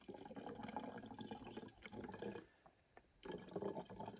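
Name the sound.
water filter slowly filtering algae-filled lake water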